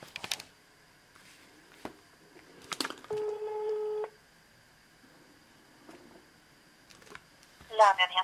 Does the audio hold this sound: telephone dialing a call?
yes